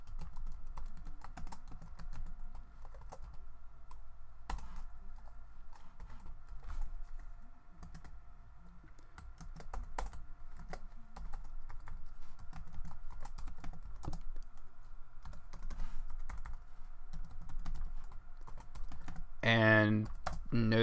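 Fingers type steadily on a computer keyboard, close and continuous, while Arduino code is entered; the keystrokes patter in irregular bursts, with a brief voice near the end.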